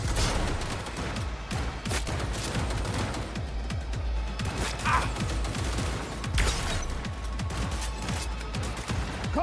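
Rapid bursts of gunfire from a firefight in Cyberpunk 2077: Phantom Liberty, with dense repeated shots and clanking mechanical impacts filling the whole stretch at a steady, loud level.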